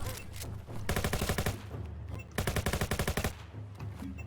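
Gunfire in the online shooter VENGE IO: two rapid automatic bursts, each about half a second to a second long, with quick repeated cracks separated by a pause, fairly quiet overall.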